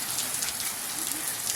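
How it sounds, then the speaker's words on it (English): Steady rain falls outside a house, a dense continuous hiss of drops striking surfaces, close and fairly loud with no breaks. "It's like raining outside my house and stuff,"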